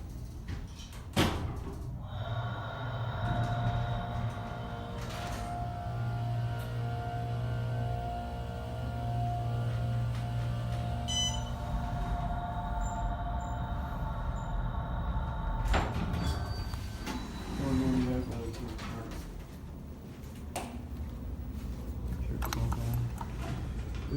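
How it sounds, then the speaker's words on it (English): An Otis Series 5 hydraulic elevator motor runs at Pond View Professional Park, Building 100, with a sustained, layered hum of steady tones. Mechanical clunks sound at the start and again partway through. "This is called Otis Series 5. Go to 2. This is a nice one. Let's listen to the motor."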